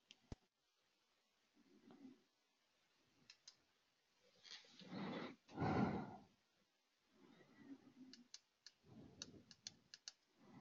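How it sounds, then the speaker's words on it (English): Keys clack on a computer keyboard in scattered, quiet bursts, with soft breathy noises and faint background movement between the clicks. "He's typing."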